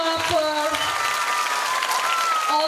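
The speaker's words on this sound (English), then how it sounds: "Let's give a big hand clap for" Audience applause at a school's annual fancy dress competition, continuous steady clapping from a crowd with a voice speaking over it.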